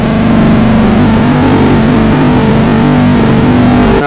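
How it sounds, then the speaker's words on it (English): An analogue synthesizer holds a thick, loud, continuous low drone, steady and buzzing with rich harmonics and a slight wavering pulse throughout, with no voices over it. "Low drone."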